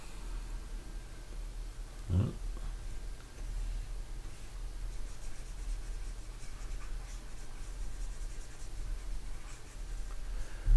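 A stylus scratches briefly on a graphics tablet while a Photoshop portrait is retouched, one short stroke standing out over a steady faint hiss.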